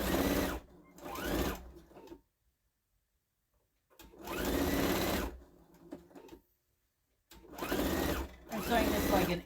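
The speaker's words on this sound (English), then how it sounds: "So I'll sew this little dude on." A sewing machine stitches on a Santa placemat in three running bursts separated by pauses, loud and close, a steady mechanical whir in each.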